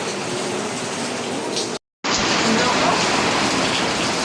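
Heavy rain pours down in a dense, steady roar, close and loud, near a damaged rain gutter, briefly cut to silence partway through before resuming just as strong.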